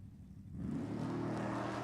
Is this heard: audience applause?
no